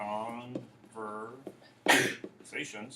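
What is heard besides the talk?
sneeze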